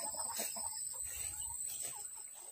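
A large ayam gajah chicken clucks in short, soft bursts close by, against a constant high-pitched background whine and steady noise.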